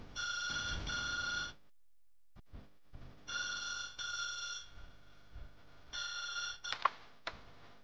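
A telephone rings in bright electronic bursts, one long ring, a pause, then two more, with a few soft knocks in between. It sounds fairly close in a quiet indoor drama scene, and nobody speaks.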